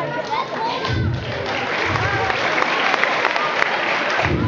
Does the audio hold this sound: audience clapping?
yes